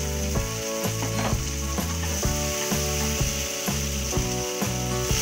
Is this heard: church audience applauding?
no